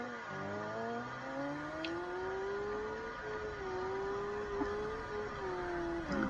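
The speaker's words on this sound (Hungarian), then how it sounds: "És úgy gyorsulunk fel." A Dodge car in the driving simulator BeamNG.drive accelerates hard with traction control on, its engine tone climbing steadily through the gears, loud and close with a continuous whir and no talking.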